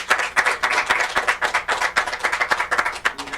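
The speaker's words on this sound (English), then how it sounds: "Give him a round of applause." Audience clapping for an introduced speaker at a live event, individual hand claps standing out in a rhythmic, fairly close patter that continues steadily for a few seconds.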